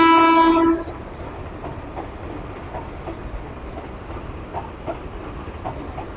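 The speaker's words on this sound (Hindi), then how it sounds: "ये है देहरादून वंदे भारत" The Dehradun Vande Bharat express passes through Najibabad station, opening with a loud horn blast, then a steady rumble and rhythmic clickety-clack of wheels rolling by close at hand.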